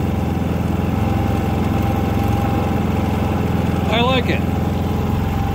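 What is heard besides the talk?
Predator 3500 inverter generator idling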